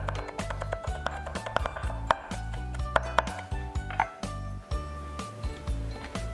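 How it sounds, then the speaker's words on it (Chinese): A knife finely chopping ginger and garlic on a cutting board, a run of quick, sharp knocks in uneven bursts with brief pauses between them, close and fairly loud. "切一些姜末跟蒜末"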